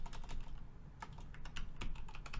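Typing on a new computer keyboard: a steady, fairly quiet stream of rapid key clicks with occasional louder taps, continuous throughout with no speech.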